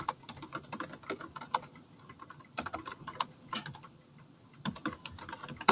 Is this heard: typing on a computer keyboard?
yes